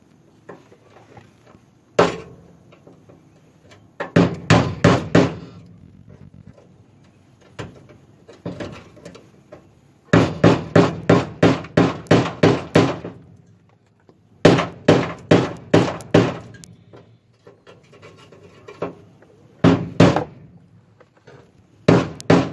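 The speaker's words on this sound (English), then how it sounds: "You need the car up in the air so that you can get a good hammer swing on the chisel" Sharp metallic hammer blows drive a wood chisel through spot welds joining the body mount flange to the inner rocker of a raised 1955 Cadillac Coupe DeVille. The strikes are loud and close, falling in quick bursts of several blows with short pauses between.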